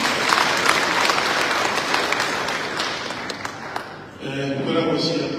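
A political rally crowd in Nyahururu breaks into loud, dense applause with scattered cheers, sustained for several seconds before thinning out.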